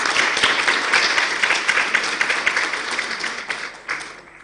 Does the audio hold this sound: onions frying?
no